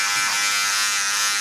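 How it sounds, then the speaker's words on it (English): A cordless electric hair clipper with its blade fully closed tapers the back of a man's neck in a barbershop, giving a steady, close, high-pitched buzz that holds evenly without pause. "I'm going with my clipper all the way closed."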